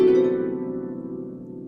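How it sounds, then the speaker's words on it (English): A single note is plucked on a harp strung with nylon strings, ringing warm and clear, then fading gradually over almost two seconds with no voices. "Several of our harps are strung with nylon strings that sound like this."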